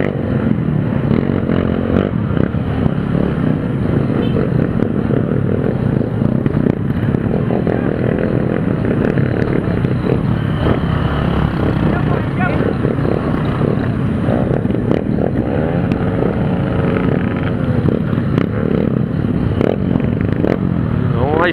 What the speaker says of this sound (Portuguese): Se liga no que é moto.